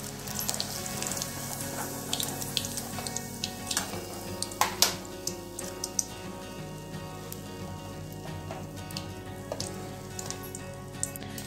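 Green chilli bhajji frying in hot oil, a steady close sizzle and bubbling that holds at an even level with small crackles scattered throughout, and no voices.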